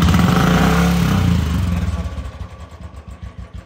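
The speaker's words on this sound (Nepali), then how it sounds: "एकपटक रेस्ट दिएर हेर्नु होला न्युट्रलमा लिएर" A second-hand motorcycle engine revved in neutral, a loud roar that eases off to a rough, pulsing idle, with a voice faintly heard.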